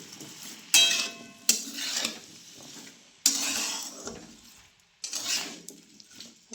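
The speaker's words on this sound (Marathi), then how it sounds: "आता त्याच्यामध्ये मीठ टाकते आणि परत एकदा व्यवस्थित हलवते" Potatoes being stirred with salt in a pan, heard as a few sharp scraping clatters of a utensil against the pan with quieter stretches of faint stirring between them, close and without talk.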